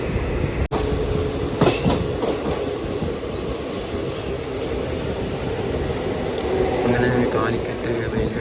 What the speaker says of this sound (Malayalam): തിരുവനന്തപുരം സെൻട്രൽ ഏറനാട് എക്സ്പ്രസ് അതിലാണ് കയറിയിരിക്കുന്നത്